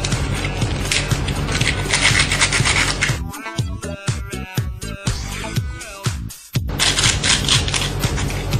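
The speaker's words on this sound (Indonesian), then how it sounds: "Ini kayaknya lebih gampang untuk dipegang jika Anda ingin mengamplas seperti itu." A Dayan GuHong puzzle cube piece being sanded by hand, close rough rubbing strokes in a continuous run, pausing briefly midway for quieter scraping before resuming.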